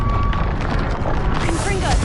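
A fiery Confringo spell blast in the video game Hogwarts Legacy, a loud, rumbling burst with crackling debris that fills the short moment, overlapping a character's voice.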